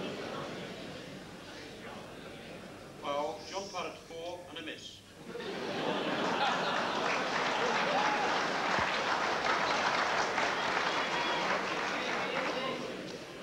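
Snooker audience at the 1990 World Championship breaks into sustained applause and some laughter after a brief stretch of commentary, the clapping rising and holding steady to the end.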